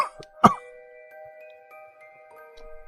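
A single sharp cough bursts out right after a drag on a cigarette, taken on a bench in a grass garden, then fades into a quiet, faintly humming background.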